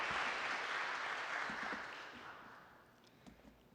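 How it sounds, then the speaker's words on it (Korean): Applause welcoming a pastor to the stage at a school worship service, beginning full and sustained, then gradually thinning and fading as the clapping dies down toward the end. "큰 박수로 환영하며 설교 말씀을 듣겠습니다"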